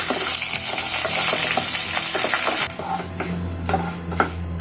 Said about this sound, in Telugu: ఇవన్నీ వేసుకున్నాక అండి పోపు బాగా వేయించుకోవాలి.